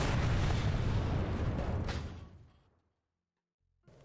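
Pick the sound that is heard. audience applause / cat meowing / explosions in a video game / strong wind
explosions in a video game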